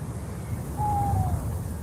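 A single drawn-out hoot from a raven sound effect that resembles an owl rings out clearly mid-way, smooth and steady, over a low ambient rumble.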